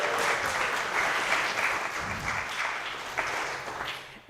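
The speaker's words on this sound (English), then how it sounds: "Can we give them a round of applause?" Church congregation applauding during a service: dense, steady clapping from many hands that holds for several seconds and then tapers off near the end.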